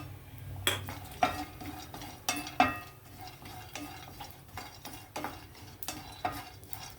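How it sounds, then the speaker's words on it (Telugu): Cashew pieces tossed into hot ghee in a pan, left over from frying almonds, with a soft sizzle under repeated sharp scrapes and clinks of a spoon against the metal, at close range and moderate volume. "ఇప్పుడు జీడిపప్పు ముక్కలు వేస్తున్నాను"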